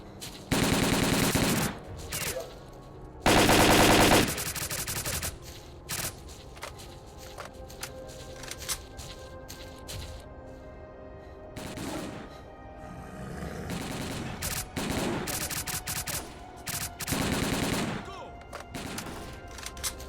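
Gunfire in Stalker Call of Pripyat, with loud automatic bursts and scattered single shots in an irregular firefight, several heavy bursts standing out, under background game noise.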